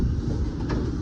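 Steady low rumble of a passenger train rolling along, heard from inside a first-class carriage in Ukraine, continuous and muffled with no voices.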